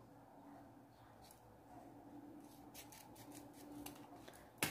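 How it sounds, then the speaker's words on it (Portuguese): Scissors snip through a ribbon spike during bow making, with soft crisp cutting sounds ending in one sharp close snip, quiet and without talking. "E vamos aqui cortar o spike. Corto assim. E corto do outro lado também."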